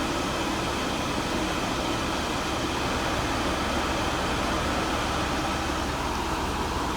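Heater fan in a Mercedes W124 with an M103 engine and an intermittent overheating fault, blowing with a steady even whoosh of airflow inside the cabin, constant and unchanging, with no talk.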